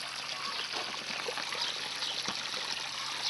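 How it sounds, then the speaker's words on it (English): Water trickling and splashing steadily while a grapevine is watered outdoors, a continuous close stream with no talk. "I'm giving this grapevine some water"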